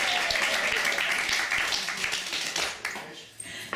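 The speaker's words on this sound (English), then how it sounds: "You can clap if you like." Wedding guests clapping together in a sustained round of applause that thins out and fades near the end, with some murmuring voices beneath.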